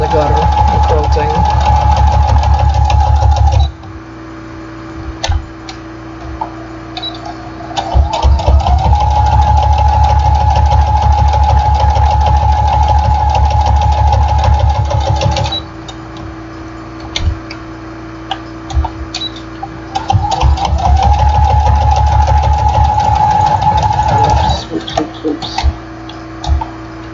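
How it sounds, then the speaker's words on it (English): A sewing machine top stitching a quilted jelly roll mug rug runs in long steady buzzing stretches, stopping and starting three times with quiet pauses between. "First I'm going to top stitch the whole thing, 1/4 of an inch in."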